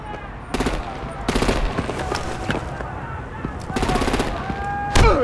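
Automatic gunfire in the video game Batman Telltale The Enemy Within, several loud rapid bursts of machine-gun fire with short pauses between them, ending in a sharp single shot, over game ambience and brief voices.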